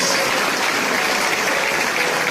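A church congregation applauds, a loud, even wash of many hands clapping that holds steady from start to finish with no voice rising above it.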